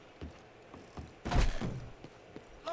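A door opening in the Red Dead Redemption 2 video game: a few light knocks and creaks, then a fuller thudding swing lasting about half a second, followed by softer clicks.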